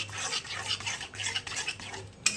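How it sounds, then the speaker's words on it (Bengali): A spoon stirs yogurt through paneer butter masala in a pan, quick repeated wet scraping strokes in an even rhythm, close and fairly quiet, ending with a sharper clink of metal. "এটাকে ভালোভাবে একটু নাড়াচাড়া করে নিতে হবে, যেন দলা না পাকে দইয়ের মধ্যে"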